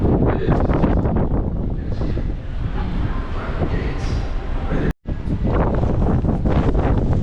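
Strong wind on the deck of the cruise ship Ovation of the Seas buffets the microphone in a loud, continuous roar with gusty swells, briefly cutting out once before resuming.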